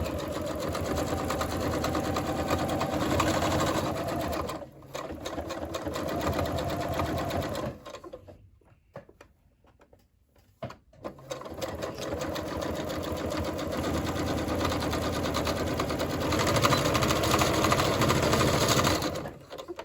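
A sewing machine stitches fleece for a double-sided cap, a close, steady mechanical whir that runs long, cuts out briefly into near silence, then resumes just as loud.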